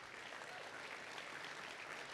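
An audience claps for the judges at a pitch competition, a dense, even round of applause that sounds steady and moderately distant for a couple of seconds.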